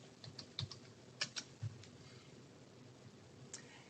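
A few quiet, scattered keystrokes on a computer keyboard enter a search term, soft clicks with a couple of louder taps over a faint background hiss.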